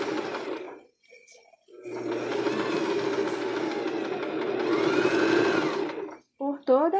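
A sewing machine runs steadily for several seconds, stitching a seam around a child's crochet dress with sunflower squares, with brief pauses at the start and a short stop near the end followed by a few light clicks.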